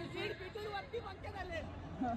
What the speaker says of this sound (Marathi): पोरांचा जल्लोष बघा जल्लोष.